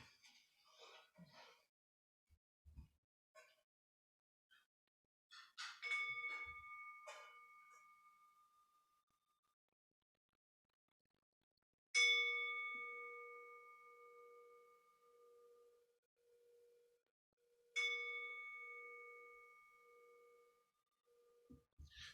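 Three separate rings of a bell at a memorial tribute, each a clear struck tone that decays slowly over several seconds, spaced apart in a quiet room with faint rustling between strikes.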